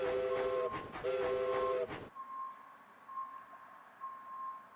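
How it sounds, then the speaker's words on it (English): A toy wooden railway passenger train in a Thomas & Friends story sounds two short whistle toots over a chugging rhythm, then the noise drops to a faint, lingering tone. "Luke awoke bright and early and went to Crovin's Gate and collected his passenger train"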